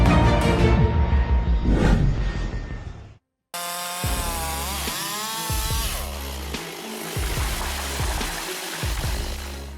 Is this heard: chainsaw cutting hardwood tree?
yes